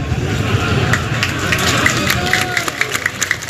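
Audience at a religious sermon breaking into applause and cheering, a busy mass of clapping and crowd voices with scattered sharper claps, fairly loud and sustained.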